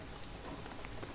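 Steady rainfall in the video game Shadow of the Tomb Raider hisses densely, with soft patters of drops blending into an even wash of noise and no other sounds.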